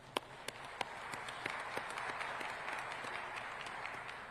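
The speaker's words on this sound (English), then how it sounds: "give a round of applause for our first panel" Audience at a food systems forum applauding its first panel, steady clapping with a few sharp claps standing out near the start, moderately distant and sustained throughout.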